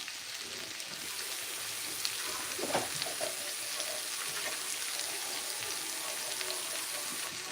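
Chipotle chicken sizzles and fries in a pan after a splash of water is added, a steady hissing crackle with a brief stirring clatter partway through.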